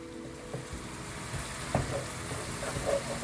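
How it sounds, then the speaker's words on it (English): Two tablespoons of minced garlic sauté in melted butter in a soup pot, giving off a soft, steady sizzle with faint stirring scrapes, close by and fairly quiet. "Saute that for another minute till it's nice and fragrant"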